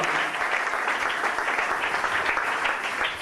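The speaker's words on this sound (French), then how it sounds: "Acclamez pour le Seigneur." A church congregation applauds the Lord, dense sustained clapping from many hands filling the room evenly for a few seconds, with no voices standing out.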